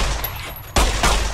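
Pistol gunfire in the video game Fallout: New Vegas: two sharp, loud shots crack in quick succession, the second landing just after the first dies away.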